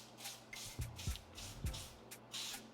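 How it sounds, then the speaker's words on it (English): Soft hissing bursts of aerosol cooking oil sprayed onto a foil-covered cookie sheet, with a few low bumps and knocks in between, fairly quiet and close. "So I spray this with some oil."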